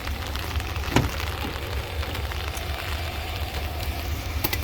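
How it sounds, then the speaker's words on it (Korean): Heavy rain falls steadily outdoors beside a parked van, a dense, even hiss of drops with a few louder splashes and no speech. "비가 많이 옵니다"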